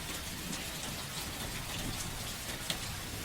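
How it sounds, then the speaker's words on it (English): Gentle rain falls steadily as a soft, even hiss with scattered small drips and no voices. "Somewhere the rain falls gently, the windows are misted, and time begins to slow."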